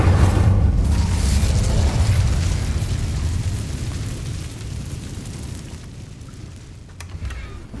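Incendio fire spell cast in Hogwarts Legacy, a loud roaring burst of flame that starts strong and slowly fades into a rumbling whoosh, with a few faint clicks near the end.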